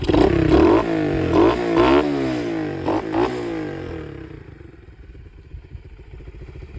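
A Boom Vader 125 stunt bike with a 100 main jet revs up hard in several rising and falling bursts, loud and close, then drops to a softer rough idle.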